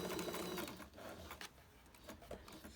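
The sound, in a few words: sewing machine back stitching apron dress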